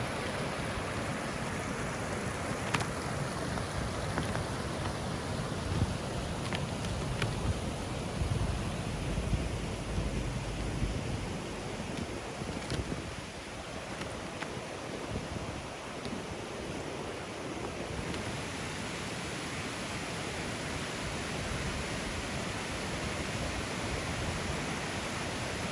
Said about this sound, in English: apart from the murmur of the water, the only sound is my footsteps in the snow.